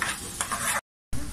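Onions sautéing in a pan for a dry prawn gravy, a close steady sizzle with stirring scrapes, briefly cut to silence before resuming.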